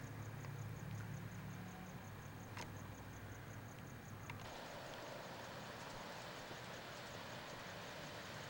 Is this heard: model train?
yes